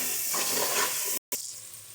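Onion and tomato sautéing with salt in a pan for chicken biryani, a dense, even sizzle heard close, with a brief cut to silence partway through.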